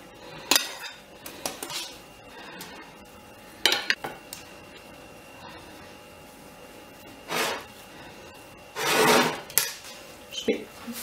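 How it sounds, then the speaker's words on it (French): Fork scraping and tapping against a chocolate Yule log cake (white chocolate and raspberry), a few sharp clinks and scrapes scattered between quiet stretches, close by. "Après on va la travailler à la fourchette pour donner l'effet bûche."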